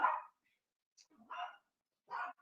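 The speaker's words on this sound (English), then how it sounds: "He usually doesn't bark that much" A dog named Oliver barking indoors, three separate gruff barks spaced across a couple of seconds with a faint yip between, fairly quiet and close with no talk over them.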